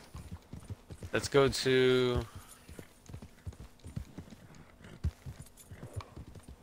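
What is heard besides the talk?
horse hooves in video game Red Dead Redemption 2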